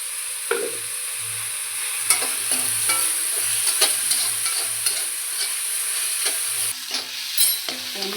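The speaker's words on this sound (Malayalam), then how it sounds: "ഉള്ളി വാടിക്കൊണ്ടിരിക്കുന്നു" Sliced onions sizzle in a hot pan for a Kerala-style soya bean fry, with a steady frying hiss broken by repeated scraping and clinking stirs of a spoon against the pan.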